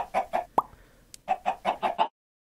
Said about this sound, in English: Yo chicken! Give me some eggs!